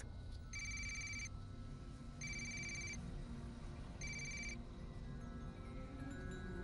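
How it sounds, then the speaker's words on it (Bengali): A telephone rings in three bursts of electronic trills, each lasting under a second with short pauses between, over a low background hum. "এখন আবার কে ফোন করছে?"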